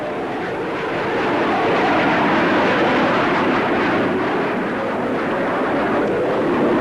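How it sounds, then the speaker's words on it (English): A Folland Gnat, a lightweight British supersonic fighter jet, roars past in a steady, loud wash of broadband jet noise that swells slightly and holds, with no voices. "This lightweight supersonic fighter makes two notable claims"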